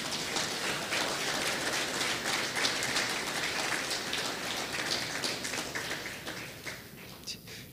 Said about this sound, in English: Again, please give yourselves a round of applause.